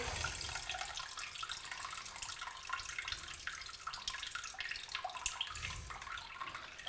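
Whey draining from cheese curds in a colander for homemade cheese, a continuous close trickling and splashing of running liquid with light gurgles, steady and fairly quiet throughout.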